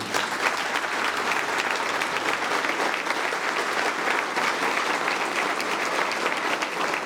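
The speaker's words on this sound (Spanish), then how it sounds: "Un aplauso para Javier Obando." An audience at a memorial anniversary event in Mexico applauds with loud, dense, continuous clapping that holds steady for several seconds without speech.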